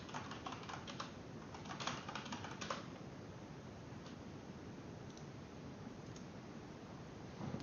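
Quiet keystrokes tap out a message on a computer keyboard, a flurry of soft clicks early on followed by sparse, faint taps over a low background hiss.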